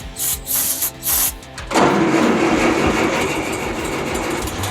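A 30-year-abandoned tractor is cranked with starting fluid sprayed into the intake, first a rhythmic pulsing chug of the starter, then a sudden dense, loud roar that holds steady.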